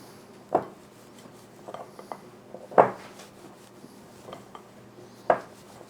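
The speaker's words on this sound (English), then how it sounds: "You can just mix that into a bowl like that." A spoon clacks against a bowl while egg white and melted chocolate get stirred into a flourless cookie dough: three sharp knocks spaced a couple of seconds apart, with softer scraping and rubbing in between.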